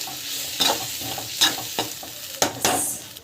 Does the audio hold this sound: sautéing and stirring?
yes